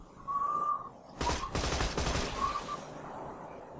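Gunfire bursts in the video game Borderlands 2, a dense volley of rapid shots packed into about a second and a half in the middle, with quieter game sounds before and after and no talk.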